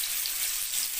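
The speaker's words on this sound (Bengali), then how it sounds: "তো গাইস আলুগুলো ভাজা হয়ে যাক, তারপরে তোমাদেরকে আমি আবার দেখাচ্ছি, কারণ তেল অনেক লাফাচ্ছে তেল।" Potato pieces frying for a mutton curry in hot, jumping oil make a dense, continuous hiss and spatter at close range, loud and even for the whole short stretch, with no voices.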